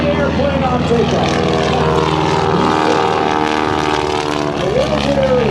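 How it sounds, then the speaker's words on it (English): A Boeing-Stearman biplane from Minneapolis, Minnesota roars loudly and continuously at an air show, its propeller engine droning and shifting pitch as it passes, with a commentator talking over it. "please welcome in the Boeing-Stearman biplane from Minneapolis, Minnesota, Mr. John Mohr"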